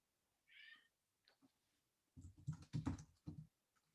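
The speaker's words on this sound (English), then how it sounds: "My cat's not happy with it." A house cat gives a brief, faint meow nearby, followed by soft keyboard typing and muffled background sounds.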